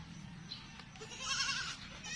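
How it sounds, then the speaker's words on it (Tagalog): A goat kid about one month old bleats on a farm field: faint, high, wavering cries that swell briefly near the middle, over a low background rumble. "Ayan, mga almost 1 month old na kambing."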